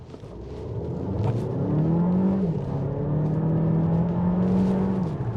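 A 2024 Alfa Romeo Tonale plug-in hybrid in dynamic mode pulls away at full throttle from a stop, its engine droning steadily and rising in pitch, with a loud continuous whir from inside the cabin.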